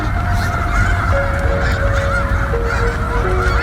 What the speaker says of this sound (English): just a gazillion birds out